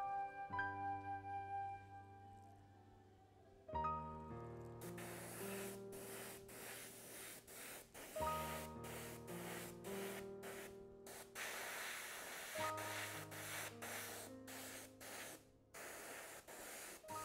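An airbrush sprays pearl blue paint in a long, steady, faint hiss that runs beneath soft background music with sustained melodic notes.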